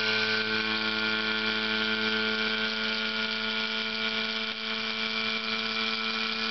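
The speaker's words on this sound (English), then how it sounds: "Now I'm going to turn on the pump." A vacuum pump drones steadily while drawing down a chamber for a high-voltage arc demonstration; a constant, even mechanical hum with strong tonal whine, close and unbroken, with no speech.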